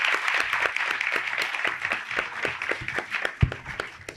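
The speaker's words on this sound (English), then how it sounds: "So give yourselves a big round of applause." Scattered applause from an audience at a question-and-answer session at a 2025 camp, a fairly faint, brisk patter of handclaps that stays even for a few seconds without building.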